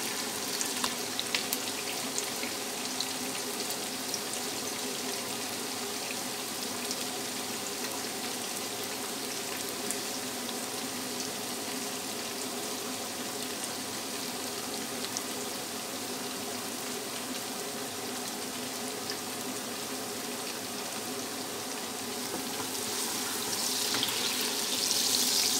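Two medium chopped onions fry steadily in hot oil, browning for a chicken and arbi curry, giving a continuous even hiss that stays level throughout with no talking.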